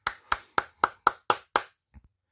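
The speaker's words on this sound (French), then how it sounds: "Je les applaudis parce qu'ils le méritent amplement" Seven crisp, evenly spaced hand claps ring out close by in a quiet room, followed by a couple of faint soft taps.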